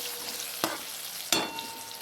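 Tomatoes frying in a pan for a spinach dish as turmeric is stirred in: a steady close sizzle punctuated by two sharp scraping strokes of the spoon.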